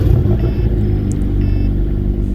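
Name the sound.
inline-4 car engine startup in video game Greenville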